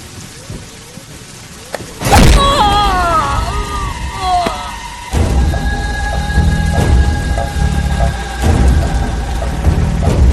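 Heavy rain falls steadily with rolling thunder in a Telugu film scene, a dense hiss beginning abruptly after a quiet moment, with music-like tones and occasional voices mixed above the downpour.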